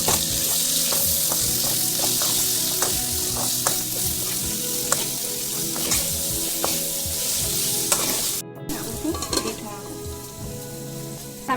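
Pork sizzles in a pan with onion, chili and ginger-garlic paste while it is stirred, giving a steady loud frying hiss broken by repeated scraping clinks of the spoon against the pan, with no voices.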